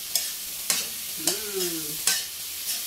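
Beaten eggs being stirred in a hot frying pan for a home breakfast, with a utensil scraping the pan in sharp knocks about every half second over a steady sizzle.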